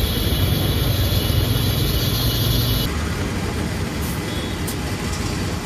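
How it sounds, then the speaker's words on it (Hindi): A vehicle engine running beside a garage, a steady low idling rumble with a high whine that stops about halfway, after which the engine hum continues more quietly. "बैकग्राउंड में काफ़ी आवाज़ है क्योंकि यहाँ पे बाजू में गराज भी है और एक गाड़ी का इंजन चल रहा है।"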